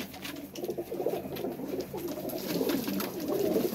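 Pigeons kept by a fancier coo in soft, repeated throaty bursts, several birds close by, with faint rustling and no talk over them.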